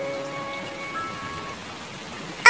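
Steady rain falling on a surface, a soft continuous patter at moderate level with no voices, ending in a brief sharp sound.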